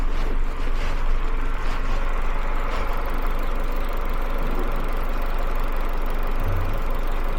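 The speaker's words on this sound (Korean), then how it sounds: "가스로 전환된 다음에 엔진 소리 한번 들어볼까요?" A 2.0 GDI turbo Chevrolet Malibu engine converted to LPG idles steadily nearby, running on gas, with a constant low rumble and hum, unchanging throughout and with no other sounds.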